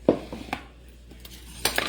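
Bowls being cleared away from a kitchen counter, with a few sharp clinks of dishes and cutlery, one bright knock near the start and a cluster of clatters near the end, close by and with no talking.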